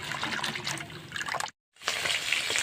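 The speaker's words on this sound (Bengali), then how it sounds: "দেখুন উষ্ণ গরম জলে ফুলকপি ধুয়ে নিচ্ছি।" Cauliflower being washed in warm water in a home kitchen, a soft running trickle and splashing that breaks off briefly and then resumes.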